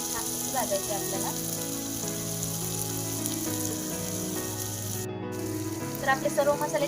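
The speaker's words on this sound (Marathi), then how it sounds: "तर आपले सर्व मसाले छानपैकी भाजले गेले." Spices and mint roasting in a clay pot for chicken biryani, a continuous crackling sizzle beneath steady background music, growing louder with a few sharper pops near the end.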